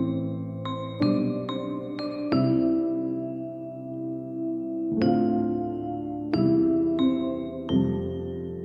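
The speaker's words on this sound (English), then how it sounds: "Next, we have the piano and a mallet sound from Hybrid Keys that sounds like this." Piano and mallet tones from the Hybrid Keys sample library play clear struck notes and chords, each ringing and slowly decaying, in an unhurried melodic pattern with no voices.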